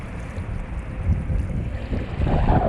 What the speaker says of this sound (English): Look back here, a little gust of wind coming. Here it comes.